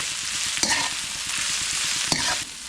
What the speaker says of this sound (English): we're going to stir fry this for 2 to 3 minutes